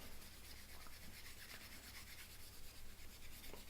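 A coarse eraser scrubs rust off a knife blade and spine in a steady, faint, close rubbing hiss with no pauses.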